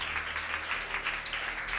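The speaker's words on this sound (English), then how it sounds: "Let's give the Lord a hand clap of praise." A church congregation claps hands in praise during a Sunday service, a short burst of scattered clapping heard moderately close over a low, sustained organ or keyboard drone.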